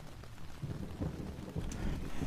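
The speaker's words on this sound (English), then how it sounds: "it's been raining, what, all day?" Steady rain falls outdoors with low rumbles of thunder rolling underneath, a continuous wet wash with no voices.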